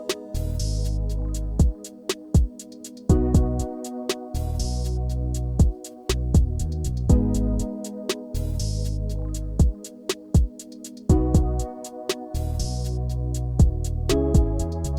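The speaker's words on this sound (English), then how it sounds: "that bass sounds like this." Mellow bass line in an R&B beat built in Studio One, deep sustained low notes pulsing in a looping pattern under sharp percussive hits and brighter chords, with no voice.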